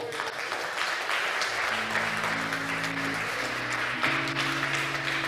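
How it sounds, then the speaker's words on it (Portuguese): A church congregation claps steadily in a continuous wash of applause, with sustained organ or keyboard notes rising underneath partway through. "Pode aplaudir o Senhor aí?"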